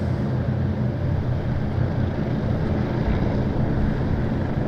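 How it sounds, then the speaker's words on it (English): An Avro Lancaster bomber takes off from the runway at Southend Airport, a steady, loud roar of piston engines mixed with wind noise that holds level throughout. "it looks like the Lancaster going off of runway 23"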